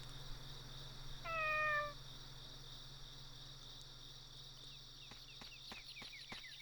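A single short cat meow in the video game Boku no Natsuyasumi 2 sounds over a steady drone of crickets and insects on a quiet summer evening, followed by a few soft ticking taps.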